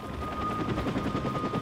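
Helicopters in the video game Watch Dogs, a continuous rapid rotor chop with a steady whine, loud and close, heard alone for a brief moment.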